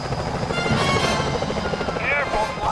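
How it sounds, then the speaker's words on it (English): Security helicopters in Sly Cooper: Thieves in Time make a steady, loud rotor thrum throughout, with game sound effects layered on top. "Careful, Sly. Those security choppers are bad news."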